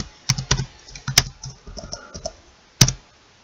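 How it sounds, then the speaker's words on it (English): Typing on a computer keyboard, a sparse run of close key clicks with a few louder strikes separated by short pauses, alone and without voices. "So we type IMG."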